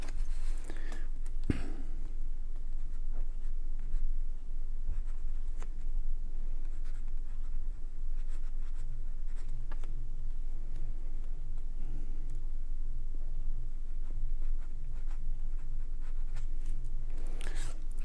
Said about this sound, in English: And I can grab a piece of paper.